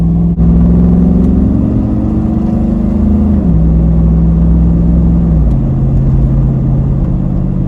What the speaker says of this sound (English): Listen to this shifter, tap shift.